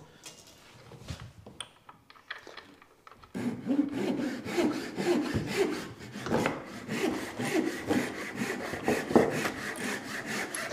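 A hand saw cuts through wood held on a bench hook at a small bench: a few tentative scrapes, then a steady rhythmic run of rasping strokes, close and clear with no speech.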